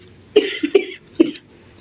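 Someone coughs three times in short, sharp bursts, close and loud, with brief pauses between each.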